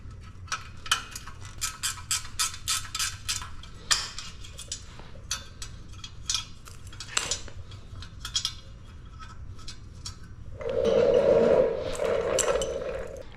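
A wrench ratchets and clinks while the chain tensioner comes off a Razor MX650 electric dirt bike, a run of quick metallic clicks, a few sharper knocks, then a short burst of louder rattling near the end; close, with no talk.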